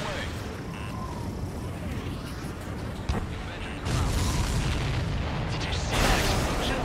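Explosions in the combat flight game Ace Combat 7, heavy rumbling booms rising sharply around the middle and again near the end over a constant dense roar of battle noise.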